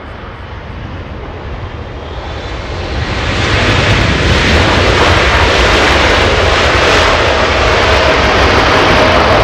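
An airliner departs from Los Angeles International Airport, its jet roar building over the first few seconds into a loud, steady, broadband rumble that holds to the end, heard from a distance outdoors.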